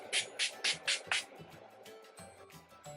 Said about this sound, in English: use the priming setting, or the setting spray, the Aquamarine setting spray